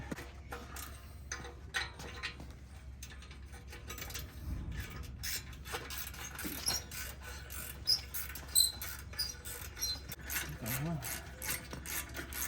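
A ratchet works loose the heat shield on a Harley-Davidson Dyna's exhaust, clicking and ratcheting close by in irregular bursts with a few metallic rubs and clanks, and brief faint voices.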